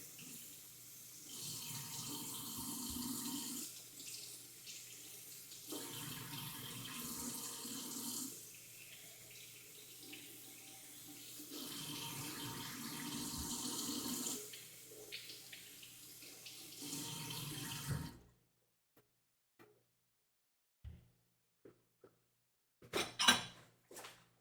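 A kitchen tap runs cold water over ingredients being washed for a miso chicken and mushroom broth dish, a steady close rush with brief pauses that cuts off near the end, followed by a few small clinks.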